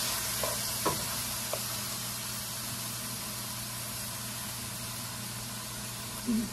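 Spices, including turmeric powder, stirred in a pan for beef curry, a faint steady hiss of frying with a few soft scraping clicks of the spoon against the pan, no talking.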